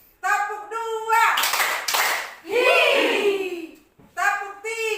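A short burst of hand clapping sits between children's voices, with singing or chanting before and after the claps.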